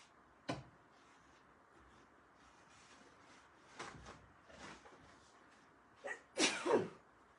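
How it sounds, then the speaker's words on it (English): A few sharp bursts like sneezes, one early and a louder pair near the end, over a quiet room with faint rustling between. "Now that I'm sneezing, I bet I sneezed 15 times."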